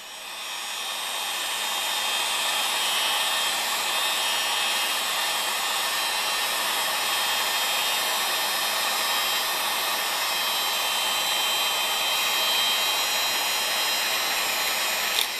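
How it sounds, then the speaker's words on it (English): A heat gun blows a steady, loud rush of hot air across a PVC sheet in a chilly garage, a continuous broadband hiss that ramps up over the first second or two and then holds constant, with no talking. "Get your heat gun out, heat it up."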